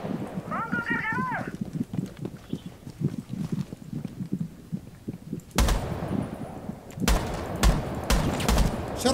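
Bursts of gunfire in a Rainbow Six match on a biohazard container objective, sharp broadband volleys arriving in the second half after a stretch of quieter game sounds and talk.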